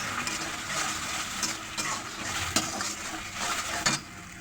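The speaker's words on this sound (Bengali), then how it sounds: "এবার আমরা এগুলোকে হালকা একটু ভেজে নেব।" Cubed capsicum for veg manchurian sizzles softly in a pan while a spatula scrapes and clinks against the metal at a few sharp moments; the sound stays moderate and wordless.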